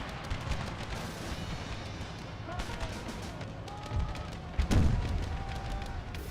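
Troops firing volleys during a battle in Empire: Total War, with a dense, continuous wash of distant musketry and booms, a couple of louder thumps near the end, and someone talking over it.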